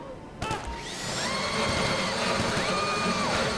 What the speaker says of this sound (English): Bro, I gotta like drill through these locks, like steel locks.